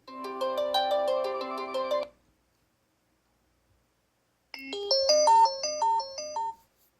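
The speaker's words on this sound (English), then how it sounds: "Alright, so here's the alarm." A melodic electronic alarm tone from a OnePlus 3 or Xperia XA Ultra smartphone plays twice: a two-second burst of repeating chiming notes, a pause of silence, then a brighter rising-and-falling pattern.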